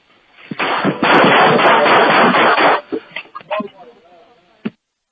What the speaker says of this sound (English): and there are the gunshots